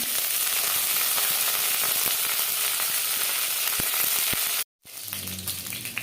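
Finely chopped green chillies and curry leaves frying in hot oil, a loud continuous sizzle with sharp crackles and pops, briefly cutting out near the end before resuming more softly.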